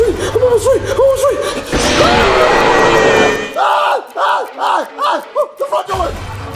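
Loud, frantic human screaming in a comedic puppet movie scene: a burst of shouting and a crowd-like roar, then a run of short, high-pitched repeated shrieks that rise and fall, close to the microphone.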